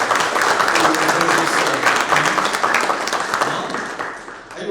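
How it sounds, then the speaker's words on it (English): An audience at a cyber security business event for enterprises breaks into steady, dense applause that stays full and even for several seconds and fades slightly at the end, with no talking over it. "please give a big round of applause to team of 63 SATs."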